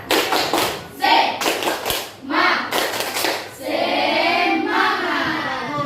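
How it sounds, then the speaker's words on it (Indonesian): Children in a classroom doing a rhythmic patterned group clap, bursts of sharp claps in a counted rhythm alternating with a voice, close and lively. "marilah kita tepuk semangat"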